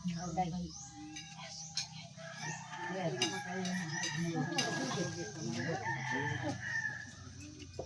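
Chickens clucking nearby, with a rooster crowing over background voices and faint bird calls.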